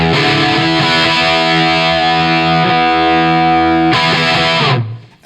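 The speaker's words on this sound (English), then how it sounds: "The stock tone that I pretty much use for all of my recording, a lot of live work, is the Klon into that Marshall" Electric guitar through a Klon overdrive into a Marshall amp, loud sustained overdriven chords ringing for several seconds with a couple of re-strikes, then a final change before cutting off abruptly.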